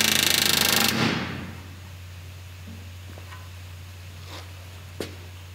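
A pneumatic rivet gun drives rivets into the aft deck of an RV-4 aircraft: one loud, rapid hammering burst of about a second, followed by a steady low hum and a few faint taps.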